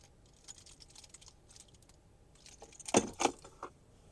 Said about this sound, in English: just a closer look at that key fob with remote start